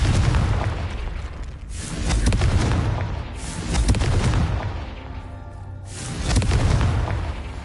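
Confringo spell explosions in the video game Hogwarts Legacy, several heavy booming blasts with rumbling tails that rise and fade at uneven intervals, loud and close, with no talk over them.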